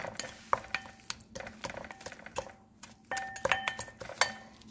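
Somali rooti dough is stirred in a bowl with a utensil, giving close, continuous scraping and clinking with sharp taps against the bowl edge at an uneven rhythm.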